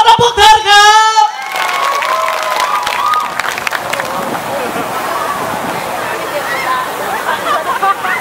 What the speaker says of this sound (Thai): ขอเสียงปรบมือดังๆอีกครั้งเพื่อต้อนรับพวกเธอครับ